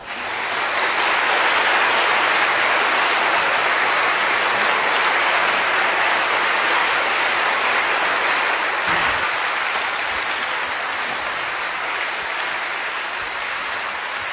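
Loud, sustained applause from a large crowd, a dense wash of clapping that holds steady and tapers slightly toward the end.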